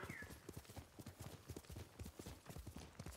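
Horse hooves clip-clop in a steady galloping rhythm in Ghost of Tsushima, quiet and distant, with no talk over them.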